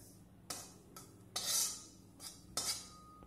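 Roasted wheat flour being scraped from a hot kadhai onto a plate, with a few sharp metallic clinks and scrapes of a spoon against the pan spaced across a quiet kitchen.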